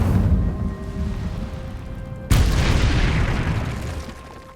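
The Incendio fire spell cast in Hogwarts Legacy lands with a sudden whooshing burst, a sharp onset over a low rumbling game ambience, followed by a roaring swell that slowly fades.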